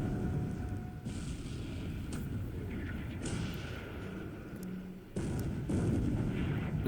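Naval guns firing in a nighttime ship engagement in War in the Pacific, a steady roar of rumbling artillery broken by several sharp loud bursts that cut in and fade, dense and continuous throughout.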